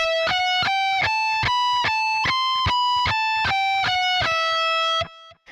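Rapid picked notes on a distorted electric guitar form a lick that rises then falls back down, steady and loud, ending with a brief ringing note.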